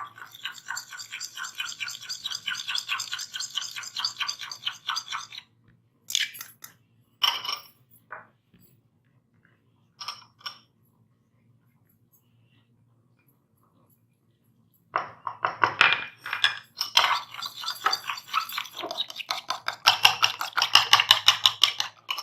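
Eggs and cream beaten in a bowl for cinnamon rice pudding, a rapid, steady clatter of whisking in two long bursts with a few isolated clinks and a quiet gap between them.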